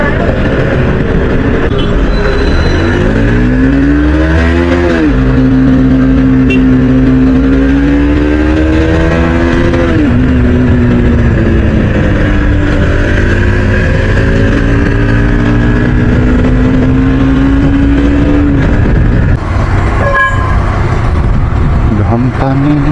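Motorcycles ridden by a group of friends on a long road trip: a loud, close, continuous engine drone whose pitch rises and falls as the bikes accelerate and shift.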